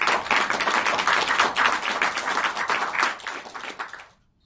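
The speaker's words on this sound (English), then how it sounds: "I think you deserve a round of applause" An audience gives a round of applause, a thick, continuous clatter of many hands that holds steady for several seconds, then tapers off quickly into silence.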